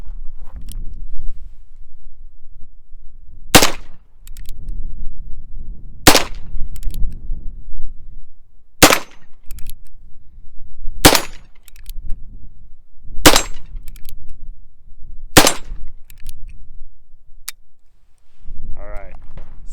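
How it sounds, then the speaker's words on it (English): A Rough Rider revolver fires .22 Magnum rounds outdoors, six or seven sharp, loud shots spaced a couple of seconds apart, with quieter handling and faint voices between them. "But I'm gonna load it up, shoot 6 more rounds and see what happens."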